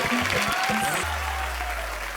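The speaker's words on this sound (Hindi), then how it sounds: "इनके लिए जोरदार तालियां" Studio audience applause at a courtroom-themed comedy show, a short burst of clapping that fills the clip, with a low hum rising beneath as it continues.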